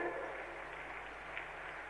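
Applause from a large crowd at the unveiling of Sardar Patel's Statue of Unity, a steady dense wash of clapping held throughout without a break.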